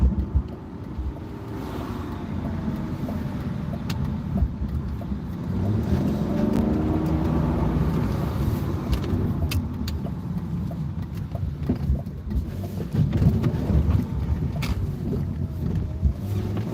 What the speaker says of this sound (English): Let the engine idle a little bit.